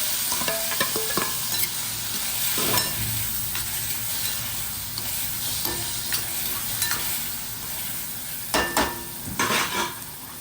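Tomatoes sizzle and crackle in hot tempering oil, with a steady frying hiss, spoon stirring and a few sharp pops and scrapes near the end, close and fairly loud with no talk.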